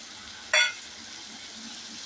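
Ground coriander and amchur powder sautéed in a pan for a dry okra (bhindi) stir-fry: a sudden loud sizzle burst near the half-second mark settles into a soft, steady frying hiss, with no talking.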